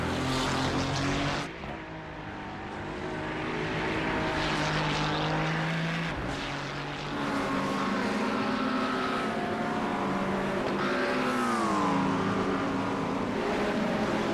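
GT3 race cars lap Imola in the iRacing sim, a loud continuous engine drone with rising and falling gear-change pitch sweeps as cars pass, steady and close throughout.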